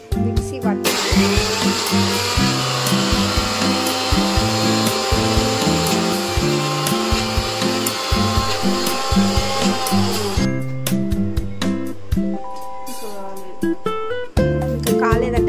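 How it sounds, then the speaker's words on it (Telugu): A mixer grinder blends milk and sugar for a homemade birthday cake, giving a loud, steady motor whir for about ten seconds before cutting off, with rhythmic background music running throughout. "సో గైస్, మిక్సీ అయితే మా వదిన రెడీ చేస్తుంది. మిక్సీ పట్టాలి."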